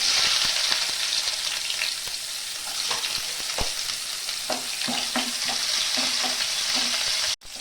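Bay leaf, whole garam masala spices and a little onion fry in mustard oil with a steady, close sizzle, broken by intermittent scraping and stirring clicks from a spatula, no voices.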